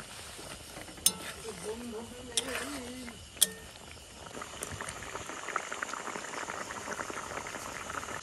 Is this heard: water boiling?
yes